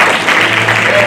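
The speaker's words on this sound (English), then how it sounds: "Give him a big round of applause." A brief, loud burst of applause for a ship's captain at a chess prize-giving in Bengaluru, a dense rush of clapping from the crowd.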